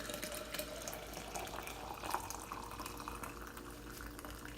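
Hot water poured from a kettle into a glass tea infuser, a steady splashing stream of liquid filling the vessel, close and continuous throughout with faint room background.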